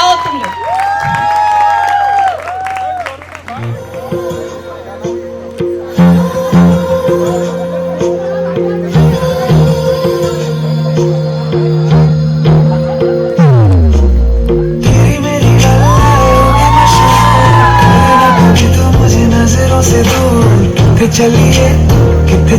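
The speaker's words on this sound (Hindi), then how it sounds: "जोरदार तालियां बजाओ तुम लोग" Wedding sangeet guests cheer, whoop and clap for the bride's brother and sister-in-law's dance performance, the crowd noise blending with loud ongoing Punjabi-style music and an occasional voice.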